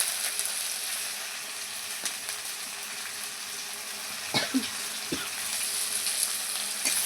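Green chilies, mint, coriander and onion fry in a hot pan as chicken gongura is cooked, a quiet steady sizzle with a few clanks and stirring scrapes partway through.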